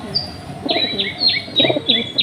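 Domestic pigeons, young birds released for an early-morning flight, with several repeated high chirps and calls plus soft fluttering bursts nearby, no talking.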